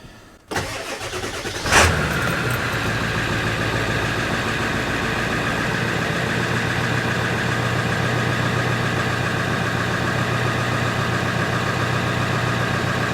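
A Ford 7.3 Powerstroke diesel truck engine cranks briefly after a moment of quiet, catches with a loud burst, then settles into a steady, rumbling idle that continues unchanged, close and with no voices.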